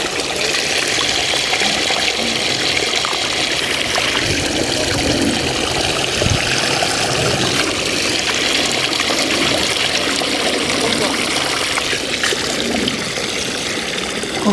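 Water splashes and runs steadily at a cold mountain spring as someone washes, a continuous close wash of sound with no voices.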